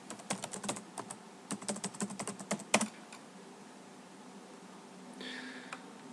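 Someone types a username and password on a computer keyboard. A quick, close burst of clicking keystrokes runs for about three seconds, then gives way to near silence and one faint later rustle.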